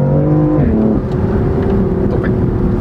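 A BMW M4 engine pulls hard under acceleration, its steady drone shifting pitch as it revs and changes gear, heard from inside the car with a constant road roar beneath.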